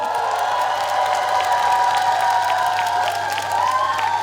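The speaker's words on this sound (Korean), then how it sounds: "큰 박수 한번 부탁드리겠습니다." An audience at a festival concert claps continuously, a dense, steady wash of applause with some cheering mixed in, filling the whole moment without pause.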